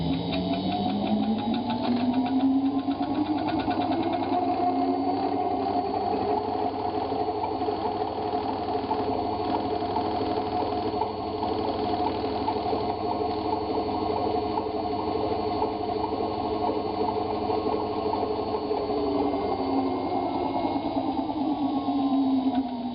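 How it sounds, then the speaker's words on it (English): Braked crane or lift motor driving a Rivet lathe, a steady mechanical hum that rises as it spins up, holds, then sinks as the brake rubs it down, close and moderately loud for about twenty seconds. "The motor is a braked motor from a lift or crane, and that's what the rubbing noise is when it slows down"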